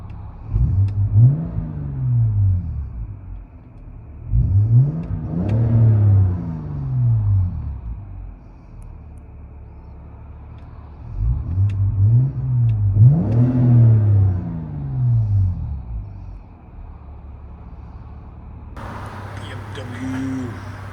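Inside a 2008 BMW 328i with a 3.0L inline-six and Magnaflow Magnapack exhaust, manual gearbox: three loud revving sweeps rise and fall, separated by quieter idle, and a brief shift in sound comes near the end.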